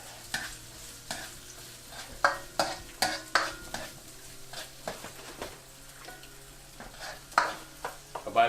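Onions fry and sizzle in a pan on an electric stove while a utensil stirs them in repeated scraping strokes, close and moderately loud, with no talking.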